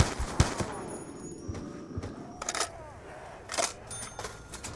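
Weapons firing in Black Ops 2 Zombies, a quick volley of close shots at the start, then scattered separate bursts and single cracks mixed with clicks and mechanical game sounds.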